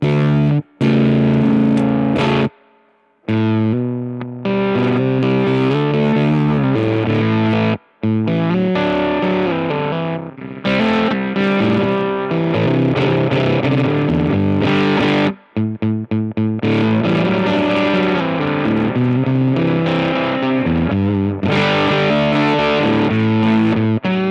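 Electric guitar played through heavy, fuzzy germanium diode distortion, chords ringing thick and saturated with a few abrupt stops and restarts between phrases.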